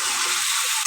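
Ginger sautéing in a hot pan of spices gives off a steady, close, bright sizzling hiss for a brief moment, with no voices.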